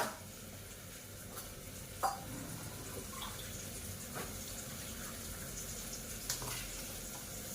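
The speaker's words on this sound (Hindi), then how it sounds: "अब मैं इसमें डाल दूंगी थोड़ा सा पानी भी" Water poured into a bowl of roasted semolina to mix a batter, a soft steady trickle and splash at close range with a few small clinks, no talking.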